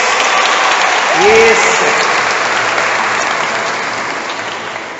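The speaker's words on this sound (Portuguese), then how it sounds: "Uma salva de palmas para a palavra de Deus" Church congregation applauding during a Catholic sermon, a dense steady wash of clapping that fades gradually, with a voice speaking briefly over it.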